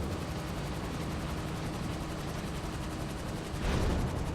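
A machine gun turret mounted on an Avenger aircraft fires in Grand Theft Auto, a steady, dense rattle of rapid shots over a droning engine that grows louder near the end.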